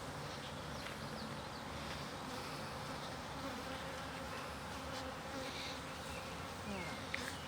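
A dense, steady drone of many honey bees buzzing at a hive during a beeyard hive inspection, close and continuous throughout.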